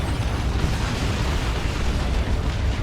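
A looted Ork tank blows up in the real-time strategy game Dawn of War 2, a dense, sustained rumbling blast with low boom and crackling debris filling the whole moment at steady loudness.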